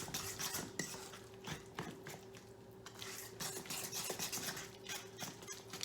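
A utensil stirs mashed banana bread batter in a bowl, producing close, quiet scraping and clinking in an irregular rhythm over a low steady hum, with no talking.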